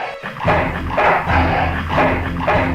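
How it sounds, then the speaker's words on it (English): A dog in the adventure game Full Throttle barks over and over, loud and close. The barks are harsh, rhythmic and evenly spaced, with no talk over them. "That's one ill-tempered mongrel."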